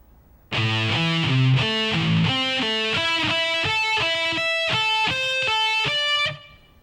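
A distorted electric guitar plays a shred lick at a slow tempo, a climbing sequence of crisp, evenly picked notes, loud and close, alone without talk.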